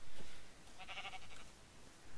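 A Minecraft sheep gives one short, wavering bleat at middling volume, heard alone over faint background noise.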